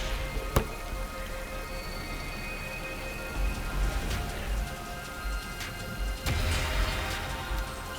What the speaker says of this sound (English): Sheesh, why did our first ever rainy day had to be today?